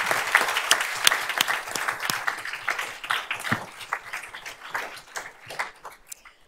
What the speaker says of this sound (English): we want to applaud you